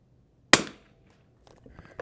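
A single sharp Winchester 52B rifle shot fired at a 100-yard target range, loud and close, with a quick decaying echo, followed by faint clicks and handling sounds.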